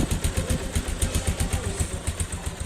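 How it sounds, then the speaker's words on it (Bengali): A motorcycle engine with only 4,000 km on it idles close by, its exhaust putting out a steady rapid chugging pulse with a faint metallic clatter, no talking. "বাইকটি স্টার্ট আছে আমি সাইলেন্সারের একটু সাউন্ড আমি আপনাদের শোনাই"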